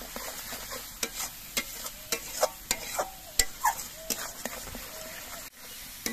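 Sugar being stirred into spice paste frying in a pan for a prawn curry: a series of distinct scraping and clinking spoon strokes at a steady rhythm over a faint, continuous sizzle, close by.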